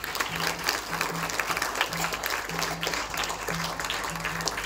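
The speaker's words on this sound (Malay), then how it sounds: "Beri tepukan." An audience at a school closing ceremony for a young leaders' camp gives steady, sustained applause, with many hands clapping evenly over a low electrical hum.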